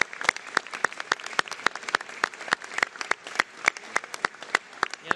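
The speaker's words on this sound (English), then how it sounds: "a big round of applause to you and the 350 workers." Sparse applause from an audience at a government announcement, a few separate hands clapping in an irregular, fairly quiet patter of distinct claps heard alone.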